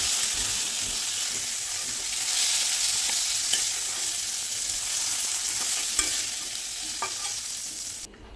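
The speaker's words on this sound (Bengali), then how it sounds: "ঢাকা খোলা অবস্থায় দু তিন মিনিট ভেজে নিচ্ছি" Flat beans and potatoes frying in oil in an open pan, a steady dense sizzle lasting several seconds with occasional spoon scrapes and small pops, close and constant.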